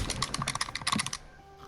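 Rapid computer keyboard clicking, a close burst of crisp keystrokes for about a second that then stops, leaving quiet.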